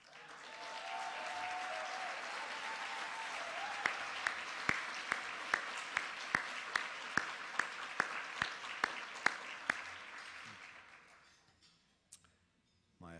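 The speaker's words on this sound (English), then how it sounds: "take another round of applause." Steady applause from a crowd at a spring gala fills most of the clip, with sharp distinct claps popping out near the end before it fades to quiet.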